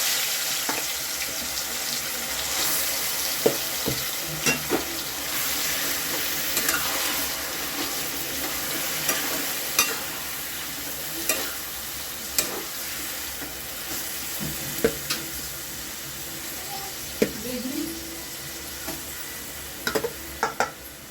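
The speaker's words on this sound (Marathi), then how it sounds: "आता ह्याच तुपामध्ये हा दुधी किसलेला घालून घ्यायचा." Grated bottle gourd frying and being stirred in ghee for dudhi halwa, a steady sizzle with repeated sharp scrapes of the spoon against the pan, close and continuous with no talking.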